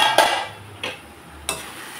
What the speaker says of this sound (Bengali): আরও কয়েক মিনিটের জন্য আমি ভেজে দিব।